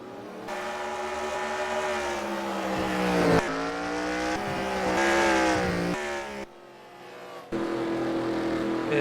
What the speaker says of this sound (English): As more cars are coming down pit road